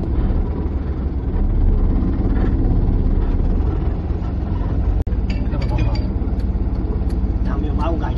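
Steady engine rumble from a vehicle on a village road near Pimpri Pendhar, loud and continuous throughout, with a sharp click midway and voices talking over it.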